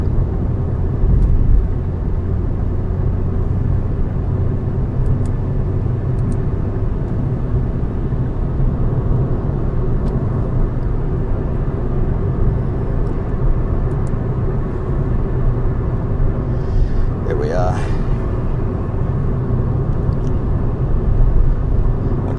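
A car cruises along a freeway at about 110 km/h, a steady loud low road and engine rumble with continuous tyre noise throughout, and a brief passing whoosh late on.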